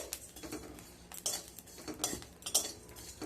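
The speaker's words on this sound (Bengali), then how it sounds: "কয়েক সেকেন্ড একটু নাড়াচাড়া করে নেওয়ার পরে মশলাটা খুব ভালোভাবে ভাজা হয়ে গেছে" Spices being stirred while dry-roasting in a pan for chhyachra, heard as a few soft scraping and clinking strokes of a utensil against metal, with brighter clinks near the middle and end.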